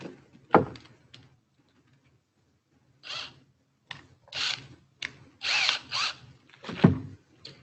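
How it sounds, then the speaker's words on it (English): A power drill driving a screw out during smoke alarm installation, heard in several short whirring bursts of varying length separated by pauses, fairly close and with no talk over it. "you can just go ahead and insert it inside the drill to"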